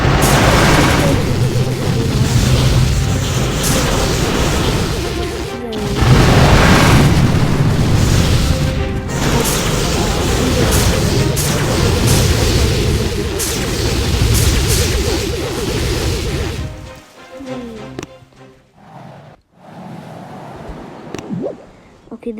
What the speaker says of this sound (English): I'll flip in my laser shot blaster here instead.